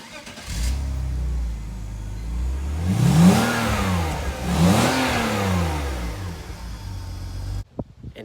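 A car engine idles and then revs up twice through its stock muffler, each rev rising and falling in pitch, with a deep, moderately muted exhaust tone, close by.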